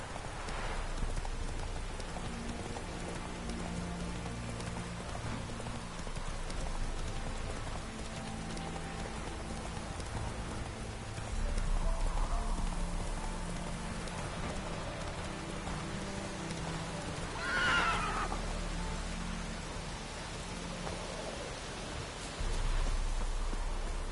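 In Witcher 3, a horse's hooves clip-clop at a steady pace through a continuous hiss of rain falling on the ground. The hoofbeats are soft and partly masked by the downpour, with no talking.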